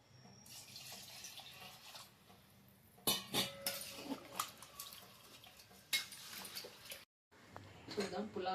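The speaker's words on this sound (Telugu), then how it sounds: "ఇప్పుడు వాటర్ పోస్తున్నా." Water is poured into a pot of chicken pulao with mint and coriander, giving bursts of splashing and pouring alongside clinks of utensils, with a brief pause near the end.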